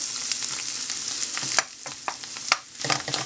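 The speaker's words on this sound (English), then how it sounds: "So now we're just toasting the flour" Flour toasting in butter in a pan, a loud close sizzle and hiss with repeated scraping strokes of stirring, briefly easing between strokes and rising again.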